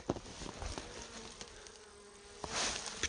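Bees buzz around a village spot where a swarm trap had been lying, a faint steady drone with individual insects whizzing close past now and then and no voices.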